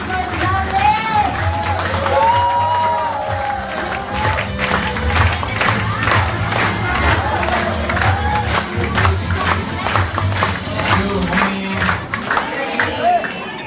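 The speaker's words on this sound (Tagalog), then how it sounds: "palakpak para sa ating Vice President, Engineer Jurgen Gonzales." A crowd at a leaders' training session applauds and cheers for a company vice president, loud sustained clapping with whoops and shouts rolling through the room, voices layered over it throughout.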